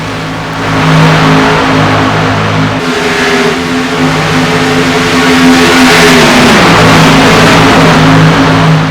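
NASCAR Xfinity race cars screaming around Talladega in iRacing, a loud sustained engine roar from several cars running close together, pitch holding steady and then dipping as they sweep through a turn.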